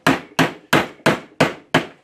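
A hammer pounds a Torx bit into a stuck bolt for extraction: six evenly spaced, loud, close metallic blows in a steady rhythm, each with a brief ringing tail and no voices.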